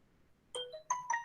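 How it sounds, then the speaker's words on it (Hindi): A phone ringtone sounds in a quiet room as a few short rising electronic chime tones, clear and close with no talk over them. "कौन फोन कर रहा है?"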